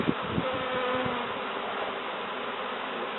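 A swarm of bees hums inside a sofa as a constant, close buzzing drone, with a few soft knocks and thumps near the start before the buzz carries on alone.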